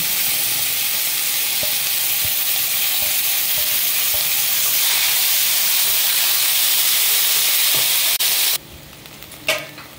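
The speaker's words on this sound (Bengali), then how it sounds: "এরপরে সেদ্ধ করা মোচা দিয়ে দিলাম।" Boiled banana flower stir-frying with spices in a pan, a loud continuous sizzle and hiss filling almost the whole stretch before dropping suddenly near the end, followed by a brief scrape.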